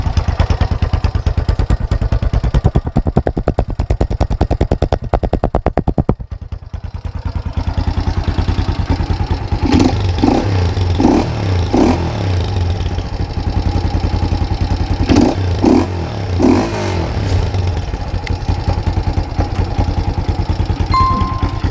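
A Honda Titan 150 motorcycle fitted with a 4 mm Gemoto exhaust idles with a steady low rumble, then is revved loudly several times in quick bursts, close up and alone.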